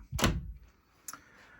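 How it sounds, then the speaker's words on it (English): A door scrapes briefly across fairly new carpet as it swings open indoors, a short soft drag followed by a faint knock, close by in a quiet room. "I heard the door moving across the carpet"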